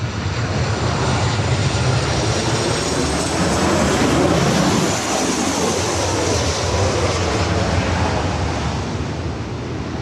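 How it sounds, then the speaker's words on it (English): Southwest Boeing 737-800 jet arriving at Los Angeles International Airport, a loud, steady engine roar with broad rushing noise that swells near the middle as it passes close, then eases slightly. "We do have a Southwest 737-800. It'll be our first arrival of today's live stream."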